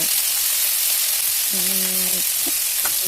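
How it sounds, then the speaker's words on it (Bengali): Local leafy greens frying in a pan with mustard seeds and green chili give a steady, fairly loud sizzle throughout, with a brief tonal hum partway through. "এইগুলো আমি ভাজছি। প্রথমে একটু সরষে দিলাম, কাঁচা লঙ্কা"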